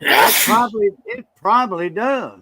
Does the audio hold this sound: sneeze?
yes